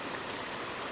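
The waterfall beneath the Fallingwater house rushes in a steady broadband roar, continuous and even for the whole moment, with no voices.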